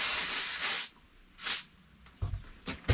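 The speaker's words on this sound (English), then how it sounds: "Give them a little spray here." Aerosol spray hisses onto the sawdusty bolts of a 455 Rancher chainsaw under repair in one long close burst, followed by a short second spray and a few light handling knocks.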